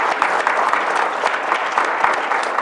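An audience at a school board meeting applauds a student with brisk, dense clapping, loud and steady throughout and with no voice rising above it.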